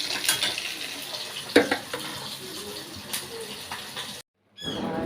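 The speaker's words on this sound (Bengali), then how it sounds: "মাছ ভাজতে শুরু করেছি বাজার থেকে এসে।" Fish fries in a pan in a home kitchen with a continuous close sizzle. Scattered clinks of utensils against the pan and other kitchen clatter break through it, and a short gap of silence falls near the end.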